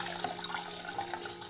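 Water is poured into a container of boiled rice, a faint brief trickling and splashing with no voices.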